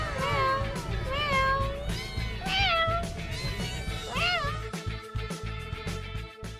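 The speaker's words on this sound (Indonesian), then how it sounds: "Ada kucing juga." A cat at an animal market meows repeatedly, several clear rising and falling calls close by, with faint background chatter.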